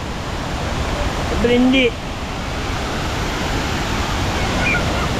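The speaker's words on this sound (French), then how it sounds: "On est retombé sur la grosse cascade." Kuang Si waterfall in Laos roaring as a steady, broad, loud rush of falling water that fills the scene, with a short spoken word partway through.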